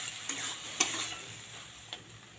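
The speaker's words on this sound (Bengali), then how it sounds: "এবারে ভেজে রাখা পেঁয়াজ কলি আলু দিয়ে দিচ্ছি। এগুলো দিয়েও ভালো করে কষিয়ে নেব" Fried onion stalks and potatoes are stir-fried in spice paste in a pan, giving a steady close sizzle broken by a few light scrapes and taps from a spoon.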